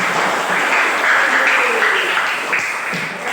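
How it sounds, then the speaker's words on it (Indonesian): Students in a classroom clap together for a few seconds, a loud, dense burst of hand claps that swells and then tapers slightly. "Tepuk tangan dulu buat kalian semua."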